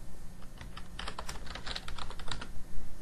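Keys clatter on a computer keyboard in a quick burst of close typing, several clustered keystrokes with brief gaps, no voices.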